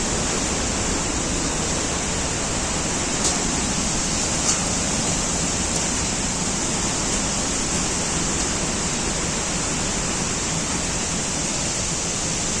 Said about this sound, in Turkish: Gittikçe güzelleşiyor şelale.